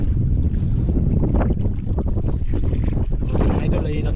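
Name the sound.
strong wind while out fishing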